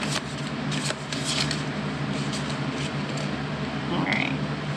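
Oracle cards being shuffled by hand, a soft rapid riffling and rubbing that runs steadily through the clip under a low background hum, close and moderately quiet.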